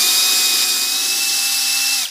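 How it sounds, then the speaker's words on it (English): A cordless drill runs in reverse to back a tap out of a half-inch brass bar, giving a steady high motor whine with a constant pitch that holds for about two seconds and then cuts off sharply, close and loud. "We'll reverse the drill"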